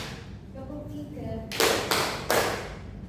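A history micro-teaching class claps on command: a voice speaks briefly, then three loud, sharp group claps land in an even rhythm, close and clear.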